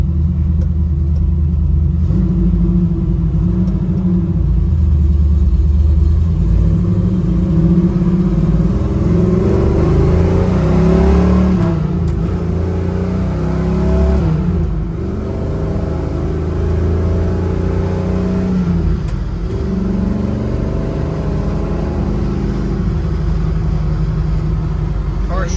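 A 1969 Chevrolet Nova SS V8 rumbles loudly up close, its engine note rising and falling as it accelerates through several gear changes, with voices faintly present under the roar.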